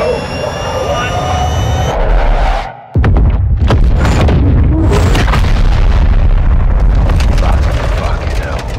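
An airstrike explosion in Call of Duty: Modern Warfare 2 follows jet engine roar and a brief drop, then a loud deep boom with a rumbling aftermath and crackling debris, under radio-style voices.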